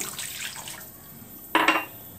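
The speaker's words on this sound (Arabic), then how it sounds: "هتنزلي لي بكوبايتين ميه دافيه بالشكل ده" Brief splash of two cups of warm water pouring into a bowl for bread dough near the end, after a quiet stretch with faint background clatter.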